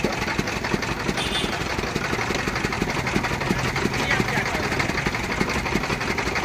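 A generator engine runs at a roadside sugarcane juice stall with a steady mid-pitched chugging drone throughout, and voices are heard talking over it.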